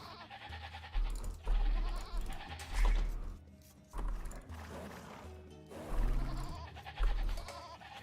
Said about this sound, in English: This game has a lot of animal noises. I can tell. Lots of sheep and lots of sheepsies and horsies.